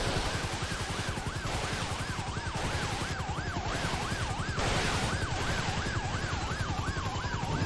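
Fire truck sirens in GTA 5 wail in a repeating rising and falling cycle over a dense engine and crackle background, steady and moderately loud with no speech.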